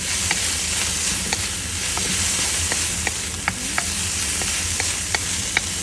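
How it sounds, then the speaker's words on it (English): Pancit noodles being stirred in a hot pan after a splash of vinegar, with a steady sizzling hiss and sharp spatula scrapes and clicks about every half second, close and alone. "a little drop some vinegar to it. Like that, and mix it all up."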